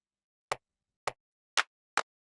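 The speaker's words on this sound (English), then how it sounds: "So the tight clap sounds like this." Tight clap sample for an organic desert house track: five crisp, dry, isolated hits at an even pace of roughly half a second, each short and snappy against silence.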